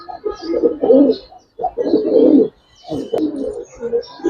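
Gribaz coloring pigeons coo in repeated soft, throaty bursts with short pauses between them, close by and with no talking over them.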